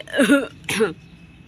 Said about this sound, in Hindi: अरे मुझे तो खांसी का दौरा पड़ रहा है।